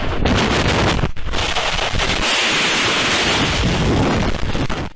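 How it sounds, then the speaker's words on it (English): A spring storm in Lebanon, Kentucky, with heavy wind buffeting the microphone, driving rain and a rumbling roar that drops out briefly before surging back, loud and close throughout, with no talking. "The storm in Lebanon was caught on video,"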